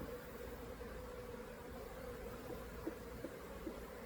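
Honey bees in a hive troubled by small hive beetles make a faint, steady, continuous buzz with a few soft ticks near the end.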